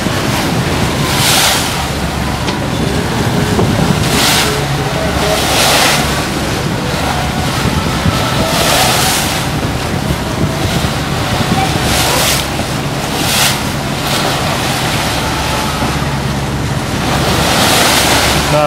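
Sea waves churned up by a departing boat off Thailand on the way to Ko Samet island, a steady loud wash of surf and water with heavy wind buffeting the microphone throughout.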